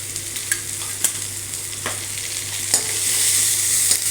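Two large onions with one dried red chilli, one green chilli and turmeric fry in a pan for brinjal chutney, making a steady sizzle broken by a few sharp stirring scrapes, with no voices.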